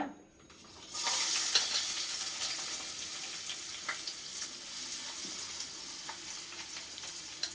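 Dried red chillies and onion hit a little oil and start sizzling, a sudden bright hiss that swells in after a quiet second, then crackles steadily with scattered pops and stirring sounds, heard close.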